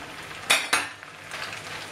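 Metal utensils toss tagliatelle with ham and curry in a pan, two sharp close clinks followed by softer scraping and a faint sizzle underneath.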